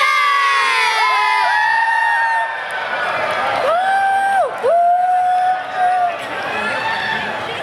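At a concert at the Sriracha Japan Festival, a large audience cheers and whoops continuously, with rising and falling high-pitched woo calls over a loud crowd roar.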